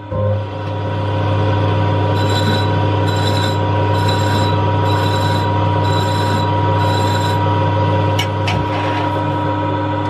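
A metal lathe cuts the edge off a turned arbor with a loud steady hum and a grinding, squealing tone, broken by several regular bursts of higher cutting noise and a brief scrape near the end.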